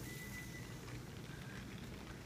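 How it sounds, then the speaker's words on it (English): Heavy rain pouring during a storm over a flooded backyard, a steady soft hiss of water falling without pause, fairly faint and distant. "It is really raining here, guys."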